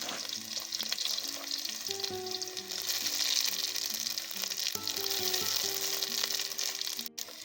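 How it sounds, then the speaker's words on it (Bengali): Green chilies, black cumin and radhuni spice sizzle steadily in hot oil in a wok at an outdoor jungle campsite, a continuous loud frying hiss with faint clinks over the top, no talking. "তেল গরম হয়ে গেছে এবার কোঁড়ায় কাঁচা লঙ্কা কালো জিরে আর রাঁধুনি দিয়ে দেবো"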